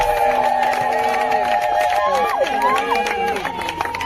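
A wedding crowd cheers and claps after a vow is accepted, with a dense mix of voices, whoops and applause filling the room close by.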